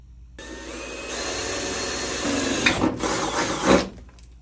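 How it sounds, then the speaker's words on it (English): A power drill bores a 1/4 inch hole in the body of a Jeep XJ, starting with a steady high motor whine that grows rougher and louder as the bit bites through the metal, then stops. "This is going to be a 1/4 inch hole."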